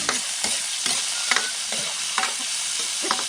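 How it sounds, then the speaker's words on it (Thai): Oil spatters and crackles as pork pieces fry in a pan, a steady close sizzle broken by sharp stirring scrapes and pops about every half second. "น้ำมันโดด"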